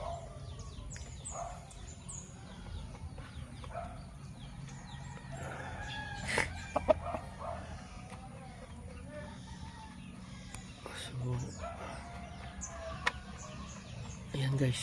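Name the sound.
Dekalb breed chicken clucking and crowing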